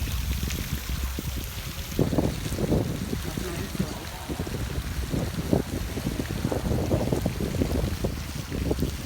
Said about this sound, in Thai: ก็จะมีลมหน่อยค่ะ